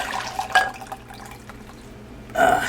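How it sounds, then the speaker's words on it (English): Thick lemon posset is poured into a measuring cup in a kitchen, with soft liquid trickles and drips and two brighter splashy bursts near the start and end, quiet in between. "Now I'm going to pour the posset"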